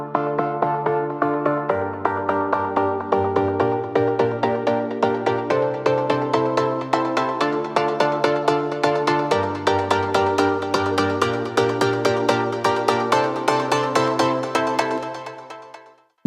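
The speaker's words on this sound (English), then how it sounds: "Main chords coming in." Main synth chords of a melodic house track built in Cubase, bright mid-range stabs repeating in a steady rhythmic pattern over shifting bass notes, playing alone until the sound cuts off near the end.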